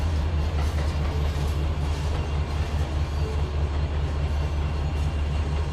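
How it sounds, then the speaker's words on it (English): A Trainz 2022 locomotive under dynamic braking gives a loud, steady low rumble and hum with constant rail noise beneath, continuous and unbroken, with no talk. "Applying some of that dynamic brake."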